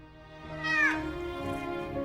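A cat in the video game Telling Lies gives a single rising-and-falling meow over a steady low background hum, moderately close and alone without speech.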